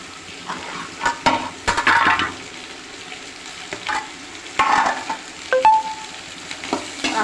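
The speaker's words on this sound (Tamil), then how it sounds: "சின்ன வெங்காயம், வரமிளகா, கடலைப்பருப்பு போட்டு நல்லா வதக்கிடணும்." Shallots, dried red chillies and chana dal sautéing in a pan, with a soft background sizzle broken by repeated scraping bursts of a spoon stirring, fairly close and with no talking.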